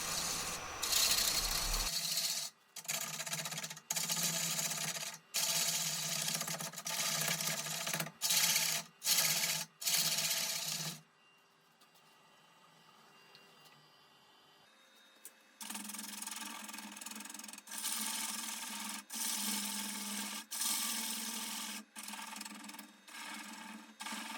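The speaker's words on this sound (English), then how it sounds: "now I'm just going to finish off turning the bottom portion of the burl" A large wood burl spins on a lathe as a gouge cuts its bottom, giving loud scraping bursts broken by brief gaps, then a quieter stretch of motor hum before the cutting starts again.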